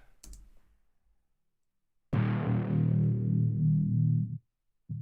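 A single sustained low, metallic tone that swells suddenly after a quiet pause, ringing with a washy spring-like reverb before cutting off.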